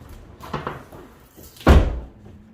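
The door of an Audi S5 with a 4.2 V8 is worked by its handle, giving a few light clicks and rattles, then one loud, close, heavy thump as it shuts.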